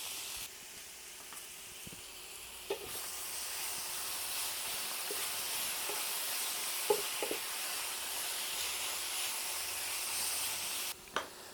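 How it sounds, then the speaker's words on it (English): Pork pieces fry in a pan for Finnish pork sauce, giving a steady, moderately loud sizzling hiss with a few faint pops and clicks throughout. "fry them in batches, depending how much pork you have, how big is your pan"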